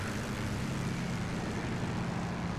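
Propeller airplane droning overhead in the World War II game Gates of Hell, a steady, fairly faint engine hum that holds constant throughout.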